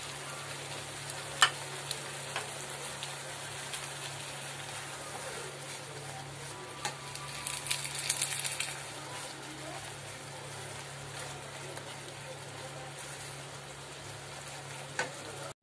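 Spice masala for a broken-potato curry frying in a pan as boiled green peas go in, a faint steady sizzle with soft stirring scrapes and a low background hum throughout.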